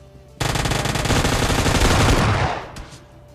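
Sustained automatic gunfire in the mobile shooter PUBG Mobile Lite: one long, loud, rapid burst of shots that runs for about two seconds before tailing off, with no talking.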